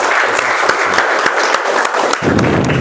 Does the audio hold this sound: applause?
yes